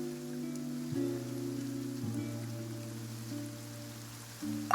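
Rain falling in a video game scene, a soft, steady hiss of rainfall running beneath sustained game music chords that shift a few times.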